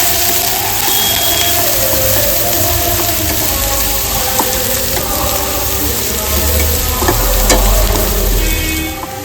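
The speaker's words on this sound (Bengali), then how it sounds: "এরপর আমি পেঁয়াজটা ব্রাউন করে হালকা ভেজে নেবো" Chopped onions fry in a pan for light browning, giving a loud, continuous close-up sizzle with occasional scrapes and clinks of a spoon stirring through.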